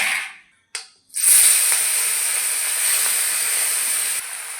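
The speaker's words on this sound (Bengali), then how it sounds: "তেল গরম হয়ে গেছে, দিয়ে দেবো মাছ।" A sharp burst of sizzling erupts and settles into a steady, loud hiss of small mola fish frying in hot mustard oil in a wok, with a brief crackle before it starts.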